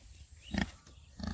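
Pigs kept on a small Assamese farm let out two short grunts, the first around the middle and another near the end, close and fairly soft over low background hum.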